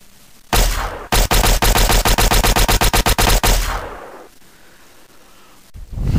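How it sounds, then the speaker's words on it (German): A sci-fi laser shotgun from a Fallout setting fires in a fast burst of a dozen or more loud, sharp electronic blasts, followed by a fading tail and a final click. "Da zog Uvara plötzlich eine Laserschrotflinte und suchte den Schusssound raus."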